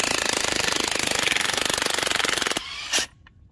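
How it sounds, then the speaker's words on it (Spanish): Rapid hammering bursts of an impact wrench removing a strut bolt on a 2004 Nissan Sentra 2.5, loud and close, running steadily for over two seconds before cutting off with a brief final rattle. "con impacto lo se hace de volada"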